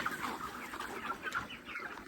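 Poultry chickens clucking nearby, a steady run of short clucks and murmurs across a couple of seconds with no talk, at a farm where many birds were dying.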